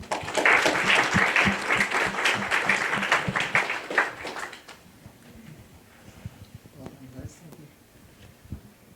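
An audience at a community college signing event applauds to welcome a speaker, dense loud clapping for about four seconds that fades into scattered claps and quiet room noise with faint talk.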